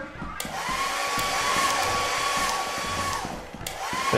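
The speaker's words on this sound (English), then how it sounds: "why won't my hair dryer turn off?" A hair dryer runs steadily in the Lethal Company video game, a loud continuous close whir with a high whine across several seconds, with no talk over it.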